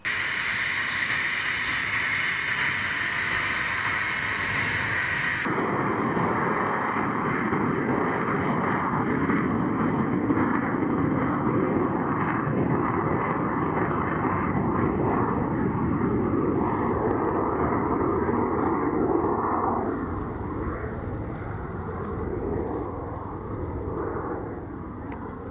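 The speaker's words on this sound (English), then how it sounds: "The Alpha jet was also being readied for battle." Alpha Jet military aircraft engine being readied for combat, a loud steady turbine roar with hissing whine that holds for about twenty seconds before easing slightly, with no voices over it.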